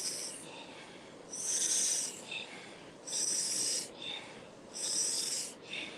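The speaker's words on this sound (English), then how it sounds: "Now really take that breath in now" Deep inhalations during a guided conscious connected breathing session, close and airy, coming in long rhythmic draws roughly every second and a half with brief gaps between them and no talking.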